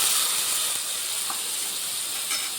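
Spice paste hits hot oil with onion, garlic and chilli in a pan, giving a loud, close, continuous sizzling hiss with no talk.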